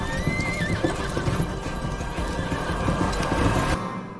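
A horse whinnies loudly over rapid clip-clopping hooves, close and busy, ending abruptly.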